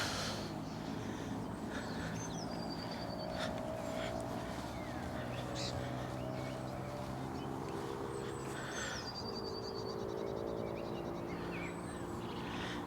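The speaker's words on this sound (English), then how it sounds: "Just listening to the bird song." Birds sing around an allotment garden, with scattered faint chirps and short whistles rising over a low, steady background hum.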